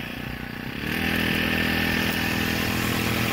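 A small petrol weed trimmer engine catches after a quiet moment and settles into a loud, steady buzzing run close by, with no voices.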